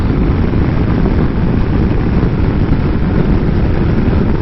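A Yamaha Tracer 900 GT motorcycle engine runs steadily while riding, a loud, continuous broadband roar mixed with wind rush, with no pauses or talk.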